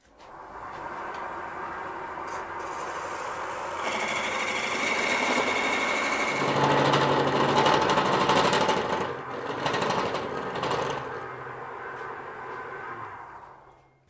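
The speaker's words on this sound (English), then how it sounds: "the parting off of the top of the hollow form" Wood lathe spinning while a tool parts off the top of a hollow form, a steady whirring drone with a rising, harsher scraping cut in the middle, close and without talk.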